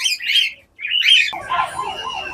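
Cockatiels calling in an aviary garden, loud nearby whistled chirps and squawks in short bursts, followed by a wavering, repeated call.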